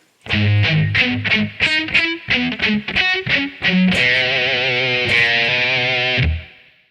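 Distorted electric guitar plays the picked arpeggio riff, a run of ringing single notes that ends on a long sustained chord fading out, loud and alone.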